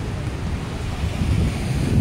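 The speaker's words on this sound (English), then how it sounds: "And more waterfalls." The waterfall at Falls Park in Greenville, South Carolina, sends up a steady broadband rush of falling water, loud and close, mixed with wind buffeting the microphone.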